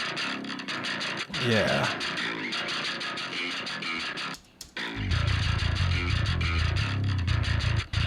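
Distorted electric guitar run through a Neural DSP mid distortion plugin plays thick, buzzing chords that cut out briefly near the middle and come back heavier, with someone speaking a word.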